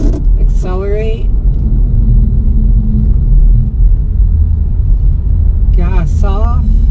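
A car with a manual transmission pulling away slowly in a parking lot, a steady low engine rumble building gently close by, with a voice speaking briefly at the start and end.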